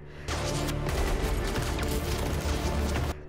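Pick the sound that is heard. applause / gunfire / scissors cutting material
gunfire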